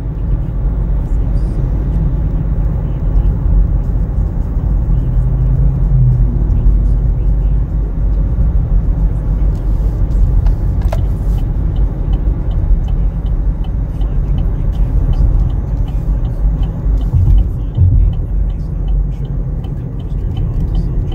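A car drives smoothly along the road, heard as a steady, loud, continuous rumble of engine and road noise with no breaks.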